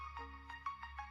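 A phone ringtone plays quietly, a repeating electronic tone pattern pulsing about every third of a second over a steady low hum, with no one talking.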